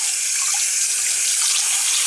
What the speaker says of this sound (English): Now I'm just running the hot water down there